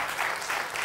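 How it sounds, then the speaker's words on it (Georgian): Brief burst of applause from a studio audience at a Georgian comedy game show, steady clapping throughout, moderately loud and without any talking over it. "აპლოდისმენტები"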